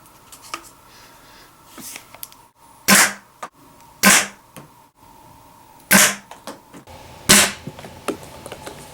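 A homemade Nerf snap pistol fires several sharp, close snaps at irregular intervals, with small clicks and handling noises between shots.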